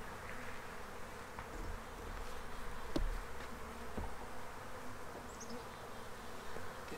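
Honey bees buzz steadily at a hive in early spring, a dense, continuous drone with a few bees passing close, recorded outdoors with faint handling knocks.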